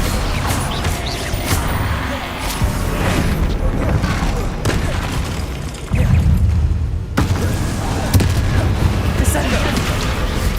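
Descendo spell impacts in Hogwarts Legacy, with loud booming crashes and explosive bursts in rapid succession over dense battle noise, and a voice shouting over the chaos.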